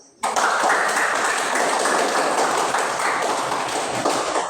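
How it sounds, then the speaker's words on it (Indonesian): Students in a classroom break into sustained applause for a group, a sudden onset of many hands clapping that stays loud and even for over four seconds. "Tepuk tangan dulu kelompok 1."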